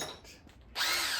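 A power tool, likely a drill, runs on a 1984 Chevy square body engine during a bottom end rebuild, starting with a short softer burst and then a loud, steady high whine that continues to the end.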